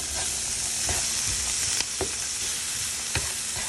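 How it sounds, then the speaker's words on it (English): Peas tipped into a pan of sizzling turmeric curry spice mix for a yellow curry, a steady loud frying hiss with a few soft scrapes and clinks of stirring, no talk. "I'm just going to add in some peas"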